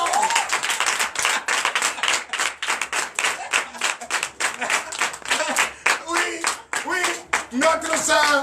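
Loud rhythmic clapping from a church congregation at a Sunday worship service in Comè, Benin, steady hand-claps filling the room with voices mixed in and some singing-like tones toward the end.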